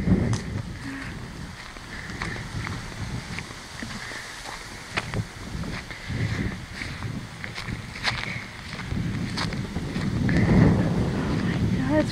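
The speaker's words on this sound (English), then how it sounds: "It's really windy today" Strong outdoor wind buffets the microphone in rumbling gusts that build toward the end, mixed with footsteps and people talking nearby.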